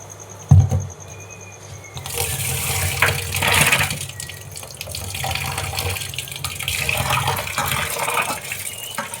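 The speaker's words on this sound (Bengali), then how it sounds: "চালগুলো পরিষ্কার করে ধুয়ে নিতে হবে," Rice being washed in a sink under running tap water for khichuri, a steady splashing and trickling stream with a sharp knock near the start and fluctuating water noise throughout.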